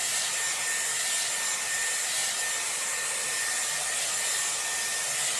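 A Dyson Airwrap with a round brush attachment blows hair dry in a steady, loud, unbroken airy whoosh with a faint high whine, running alone throughout.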